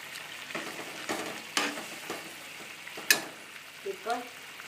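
Sambar bubbles and sizzles softly in a pot, with a few clinks and a sharp metallic tap partway through.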